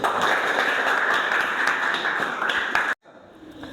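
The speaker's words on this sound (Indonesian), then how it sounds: "Oke, tepuk tangan dulu." Studio audience applause, a dense steady wash of many hands clapping that carries on loudly for about three seconds, then cuts off abruptly into quiet room tone.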